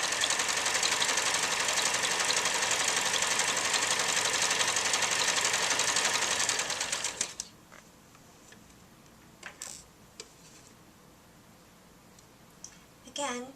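A sewing machine stitches stretched fabric in a fast, steady whirring run that stops abruptly about halfway, leaving quiet room sound with a few faint clicks and small handling noises.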